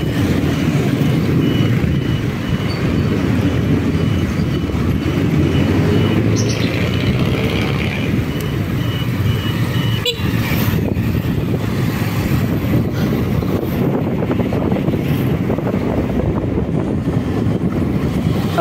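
A Keso Tanque V2 ridden at full throttle gives a steady, loud rumble with heavy wind buffeting across the microphone, continuous throughout with no break.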